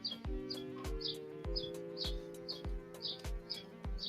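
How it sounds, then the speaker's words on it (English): Outdoors, small birds give quick high chirps at a regular pace, fairly faint, over a constant low hum and sharp periodic ticking. "how you be sometimes with the birds chirping"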